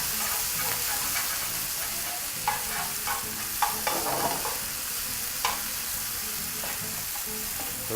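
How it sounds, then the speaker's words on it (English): Spinach sautéing in a pan with tomato paste and ginger gives off a steady crackling sizzle, with intermittent spatula stirs and scrapes, heard up close without speech. "we're just gonna saute that just until the spinach starts to wilt"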